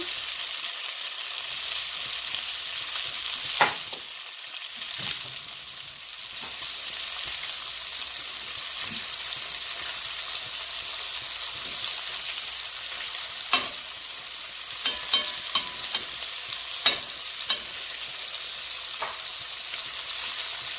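Beef pieces for a red-wine-marinated stew sear in a hot pot with a steady, even hiss, broken by a few spatula scrapes and knocks as the meat is turned; no one speaks.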